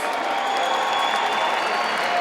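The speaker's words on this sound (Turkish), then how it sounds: "Evet, alkışlıyoruz" An audience at the TÜRKVISION 2013 televised song contest applauds during an award presentation, a continuous broad wash of clapping that fills the moment without pause.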